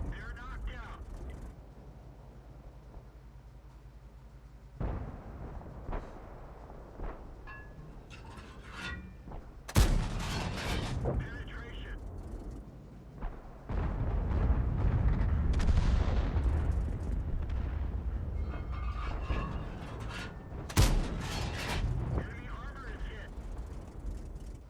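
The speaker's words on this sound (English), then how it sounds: "And finally get to put my gun to use." A Skorpion tank's gun in World of Tanks fires two sharp, loud shots roughly eleven seconds apart, over a low engine rumble and scattered battle noise, while a person talks.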